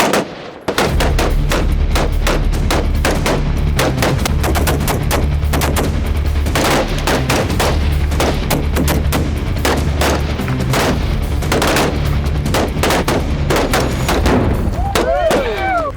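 A rifle firing at a range where tannerite targets are set out: loud, close, rapid repeated gunshots with heavy booming blasts and rolling echoes, continuing almost nonstop, with a voice briefly audible near the end.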